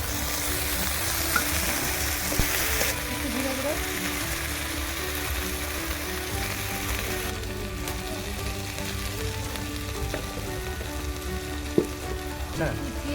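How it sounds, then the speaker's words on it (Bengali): A paste of ginger, garlic and green chili fries in oil with a constant sizzling crackle, occasional stirring clicks and scrapes over it and a few sharp knocks. "মশলাটা ভালো করে কষে নেব ভেজে মশলার তেল ছেড়ে দিচ্ছি"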